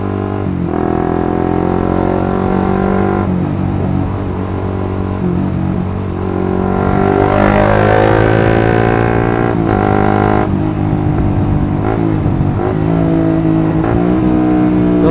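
A manual-clutch motorcycle idles and revs with rev matching while shifting gears at a traffic light, the engine rising in a loud, close surge before settling back to a steady idle.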